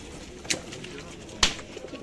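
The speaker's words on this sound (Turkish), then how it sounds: "Kuşlar bol." Pigeons at an outdoor bird market give soft, low coos amid a faint background murmur, with two brief sharper sounds like wing flaps or knocks.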